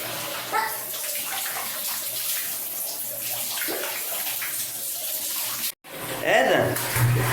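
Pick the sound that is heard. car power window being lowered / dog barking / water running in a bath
water running in a bath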